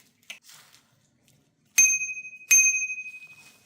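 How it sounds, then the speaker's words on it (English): Two bright rings of the handlebar bell on a DYU C3 14-inch folding electric bike, close and loud, each ding ringing out and fading, after a few faint handling clicks. "And then up here, you have your bell."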